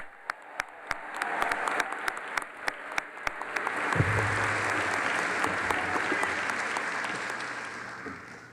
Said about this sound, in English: let us give a big round of applause for these seniors and their accomplishments